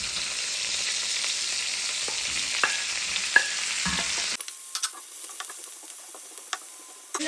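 Vegetables hitting a hot pan with garlic for noodles with shrimp, a loud dense sizzle and hiss with a few stirring clicks, then the frying drops to a quieter crackle partway through.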